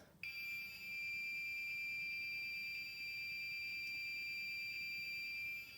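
Mini fire alarm system sounding in drill mode, a steady piercing electronic tone that starts abruptly and holds continuously, loud and close, with no talking.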